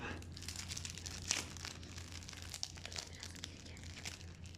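Trading card packets being torn open, close-up crinkling and crumpling of foil wrappers with small sharp crackles, steady and quiet, with no talking.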